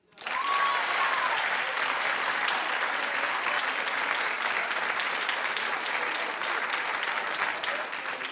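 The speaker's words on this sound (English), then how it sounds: "Clap if you're with me." Applause from a television talk show studio audience starts abruptly and continues as a loud, steady wash of dense clapping, easing slightly near the end.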